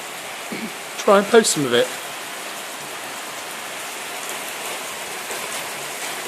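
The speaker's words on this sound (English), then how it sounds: "we're having a heck of a rainstorm here" A heavy rainstorm pours down in a steady, dense hiss that runs the whole time, with a voice briefly speaking over it near the start.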